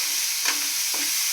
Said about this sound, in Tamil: இப்போ தக்காளியை வந்து கொஞ்சம் நல்லா வதங்கணும்.